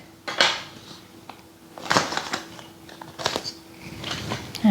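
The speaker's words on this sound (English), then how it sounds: "Go around the edge with a knife so it doesn't stick" A knife scrapes and clinks around the inside edge of a metal tin holding a vegan lemon cake, making several distinct metallic strokes at close range, with a faint hum behind.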